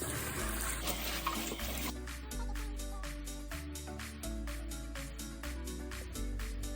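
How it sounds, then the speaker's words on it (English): Tap water runs steadily into a sink as vegetables are rinsed, with splashing and a series of regular knocks and thuds recurring throughout, close and moderately loud. "You want to go ahead and rinse your vegetables."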